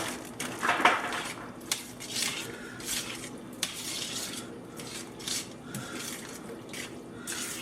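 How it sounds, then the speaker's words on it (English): Vegetables tumble into a pot of thickening shepherd's pie filling, clattering against the metal with a burst of knocks, followed by scattered scrapes, clinks and a soft low simmer, close and fairly quiet. "I'm going to go ahead and get these vegetables in here"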